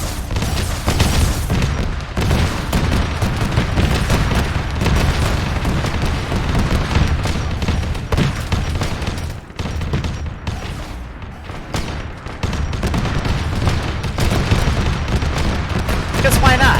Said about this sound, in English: I'm just going to let it kind of rando fire. But, you know, a lot of explosions, a lot of insanity.